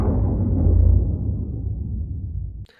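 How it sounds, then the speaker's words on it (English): A deep, airy whoosh swells and then slowly fades out over a couple of seconds, ending in a brief soft click. "First one that you hear is this whoosh sound"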